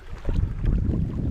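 Canoe paddling on open water, with low, irregular splashing and sloshing strokes mixed with gusty wind buffeting the microphone, close and fairly loud.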